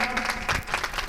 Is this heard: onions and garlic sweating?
no